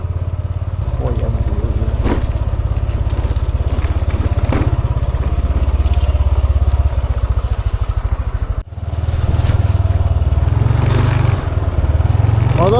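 Motorcycle engine idling and revving on a Gunung Gede mountain trail via Putri, a steady close rumble with a brief cut near the middle before it picks up again, voices talking over it.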